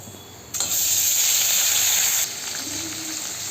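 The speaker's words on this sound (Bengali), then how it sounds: "আমি সবগুলো মাছ কড়ার মধ্যে ভাজার জন্য দিয়ে দিয়েছি।" Live singi catfish rubbed with salt and turmeric drop into hot oil in a pan, bursting into a loud close hiss and sizzle that settles into a steady, softer fry.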